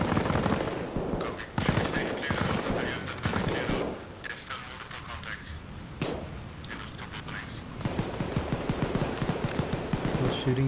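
Video game machine-gun fire echoes between buildings in dense overlapping bursts and rattles, loud and continuous, with voices talking over the shooting.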